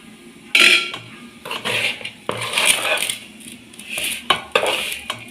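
Metal spoon scraping and clanking against a hot pot while neypathal dough is stirred, with irregular knocks and scrapes at close range, no voices.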